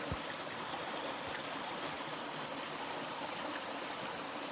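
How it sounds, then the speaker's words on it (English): A stream running full after rain or melt rushes steadily and continuously outdoors, a broad, even wash of flowing water close by with no voices. "I just wanted you to see the stream while it's full of water."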